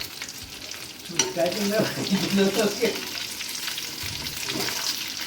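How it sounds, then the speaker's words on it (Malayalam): Stuffed mussels, washed and scrubbed, frying with fennel seeds in a pan until browned, giving a steady close sizzle broken by clattering stirring and scraping strokes, with no talk. "കഴുകി തേച്ച് വെച്ച കടുക്ക അതിലേക്കിട്ട് നല്ല രീതിയിൽ ബ്രൗൺ നിറമാവുന്നത് വരെ ഒന്ന് ഫ്രൈ ചെയ്തെടുക്കാം."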